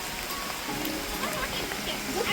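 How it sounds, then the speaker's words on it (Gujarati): Steady rain patters down on surfaces with a constant hiss, while voices murmur faintly underneath, at a river confluence near Rajkot. "વરસાદ ચાલુ થઈ ગયો છે"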